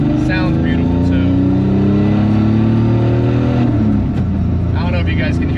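A tuned car engine revving hard, loud and close. The revs rise and fall repeatedly, with short fluttering chirps between pulls.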